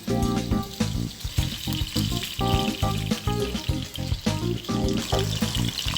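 Salted hairtail fish pan-fries in hot oil, giving a continuous near sizzle with bubbling pops and a faint watery spatter throughout.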